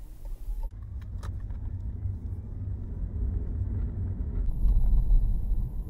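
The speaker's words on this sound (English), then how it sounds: "start the car and we'll go for a drive" A car on a driving test route pulls away with a steady low engine rumble and road noise that builds slightly, a few light clicks early on, and no talk.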